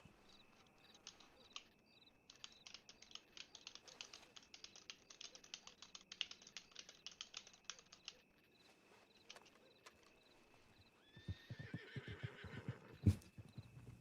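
A horse in the Red Rock RP video game whinnies and snorts while hooves clip-clop in a quick, irregular patter, the animal close and fairly loud against a quiet backdrop, with a louder burst of neighing near the end.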